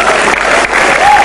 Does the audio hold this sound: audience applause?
yes